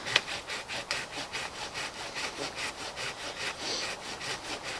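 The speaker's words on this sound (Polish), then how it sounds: "Z piłą ręczną." Hand saw cutting through willow wood outdoors, a steady run of rasping back-and-forth strokes at close range with no talking.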